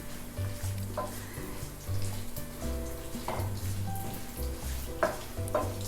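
Rice sizzles and fries in hot oil for Spanish-style rice, with a steady crackle and intermittent scraping stirs of a spoon in the pan, close and moderately loud with no voices.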